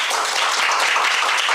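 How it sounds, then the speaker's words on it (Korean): Dense, steady applause from a seated audience at a Korean science roundtable event, welcoming the moderator and panelists; continuous bright clapping with no voices over it. "이제 좌장 및 토론자분들을 큰 박수로 맞이해 주시기 바랍니다"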